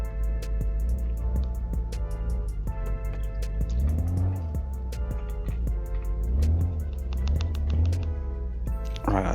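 A car engine in the video game My Garage, idling and revving as the car is driven slowly onto a trailer, with a steady low hum and rising whines as the throttle opens, fairly close.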